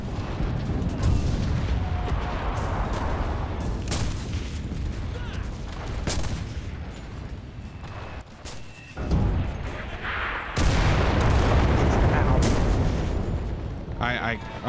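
Rifle and gunfire in the World War II shooter Enlisted, scattered shots and distant booming blasts over a rumbling battlefield, while players talk throughout.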